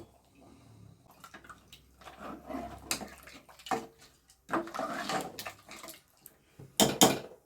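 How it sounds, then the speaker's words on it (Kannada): Water is poured from a vessel into a pot of sambar in bursts of splashing and trickling, some close and loud, separated by quieter gaps with faint clinks of the pot. "ನೀರನ್ನ ಒಂಚೂರು ಹಾಕೋಣ."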